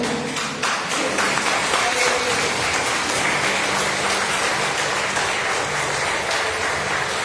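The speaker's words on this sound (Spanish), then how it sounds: "De un fuerte aplauso al Señor." A church congregation at a Sunday worship service claps together in loud, sustained applause that runs dense and continuous for several seconds.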